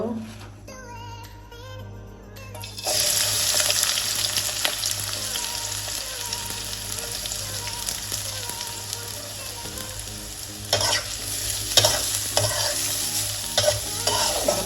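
Onions frying in hot oil in a wok-style pan while chicken roast is made, a steady loud sizzle with scraping stirring strokes throughout, starting quieter before the onions hit the oil.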